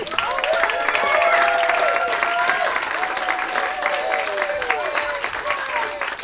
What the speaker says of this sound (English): how about a nice round of applause for Journey Blue Heaven?